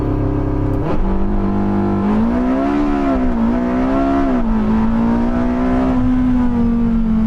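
Porsche 918 Spyder launching hard in a 0-60 mph acceleration run on warm tyres, its engine note rising loud and close through the gears, with a sharp shift early on and no talk.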